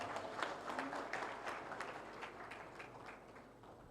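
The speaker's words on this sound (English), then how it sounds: "They should also give you a round of applause." A conference audience gives a panel discussion a round of applause, heard as faint, steady clapping from a distant crowd that fades slightly over a few seconds.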